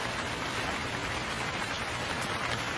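Steady rain patters on a surface, a dense, even hiss of drops that continues without pause.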